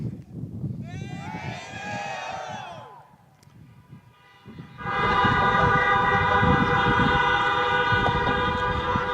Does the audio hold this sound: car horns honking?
yes